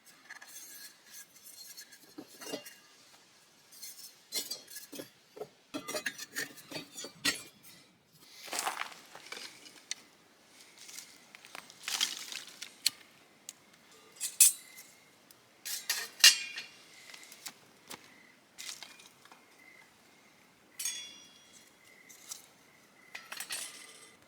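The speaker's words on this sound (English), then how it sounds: "we're gonna put this stove together if I can remember how" Metal parts of a wood-burning backpacking stove being assembled, with intermittent clinks, scrapes and rubbing of thin metal pieces, close and fairly quiet, in irregular bursts with pauses between.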